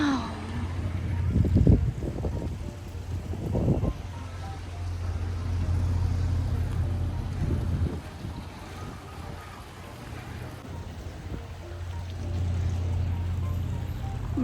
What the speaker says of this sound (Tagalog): May tumutunog na tubig. Ang ganda ng tunog. May pabangka dito.